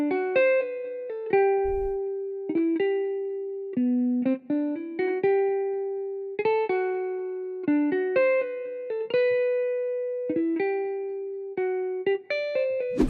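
A clean, dry software guitar loop in FL Studio plays a picked melody with bright, distinct notes and short pauses, no reverb or distortion, alone and close.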